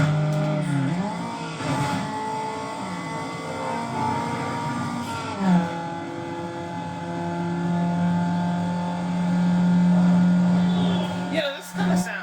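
A car engine drones and revs steadily, rising into a loud sustained roar near the end, with a voice talking over it at times, in the video game Need for Speed: Underground.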